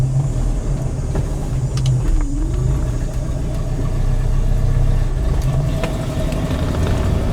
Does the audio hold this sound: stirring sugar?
no